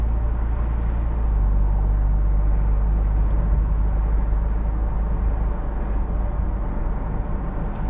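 A 2025 Ford Mustang EcoBoost heard from inside while driving, with a steady low engine and road rumble holding constant throughout, no talk.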